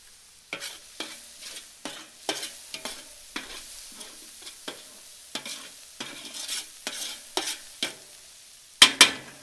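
Garlic cooks in a paella pan over a Weber kettle grill, heard as a faint sizzle under a long series of rhythmic scraping stirs, ending in two sharp metallic clanks.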